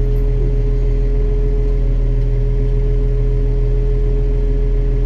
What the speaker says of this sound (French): il vient d'arriver avec le tracteur et il roule